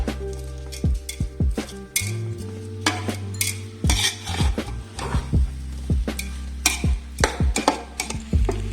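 Ghee rice is stirred in a pot, a spoon repeatedly scraping and clinking against the metal in an irregular rhythm over a soft sizzle, close and clear with no voices.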